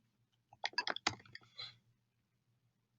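Mouse clicks and keyboard typing while filling in a text box on a web form: a quick cluster of soft, close taps and clicks lasting about a second, then quiet with one last click.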